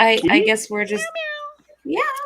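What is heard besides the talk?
cat meowing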